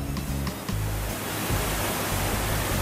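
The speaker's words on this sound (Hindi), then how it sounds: "आप बाद में देखिए पानी कैसे बह रहा है एकदम" A waterfall in Barot, Himachal, sends water pouring over rocks in a close, loud, continuous roar with no pauses.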